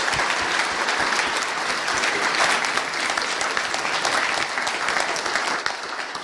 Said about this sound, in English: I guess she deserves a louder round of applause.